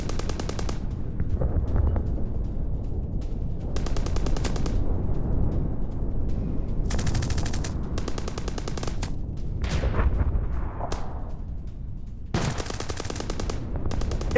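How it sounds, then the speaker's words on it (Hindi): Gunfire from Hamas fighters at Palestinians who came seeking aid comes in news footage as rapid automatic bursts, loud and sharp, repeating in several clusters over steady background noise. "मदद लेने आए फिलिस्तीनियों पर हमास की फायरिंग"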